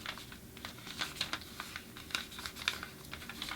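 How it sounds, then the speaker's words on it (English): Origami paper is folded in half and pressed into a crease while making a Brown the Bear figure: close, crisp rustles and light tapping scrapes in quick irregular bursts, fairly quiet, with no talking. "you want to fold it in half again in the other direction"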